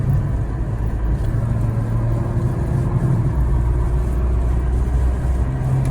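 A 2015 SEAT Leon FR with a stage 1 tune drives along as its engine holds a steady, loud, low drone and rumble from inside the cabin, with no talking.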